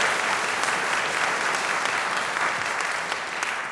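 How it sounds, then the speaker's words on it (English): An audience of parents applauds at a youth conservatory theatre production of Hamlet, with steady, sustained, fairly loud clapping throughout. "Round of applause for yourselves."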